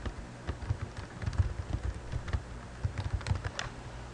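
Rapid, irregular key presses clatter on a computer keyboard as a URL is typed, close and fairly soft, with no talking.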